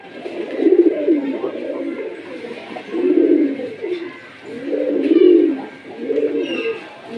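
Coloured Giribaz pigeons coo in a close, loud series of soft, rolling calls that swell and fade at steady intervals, with no other sounds.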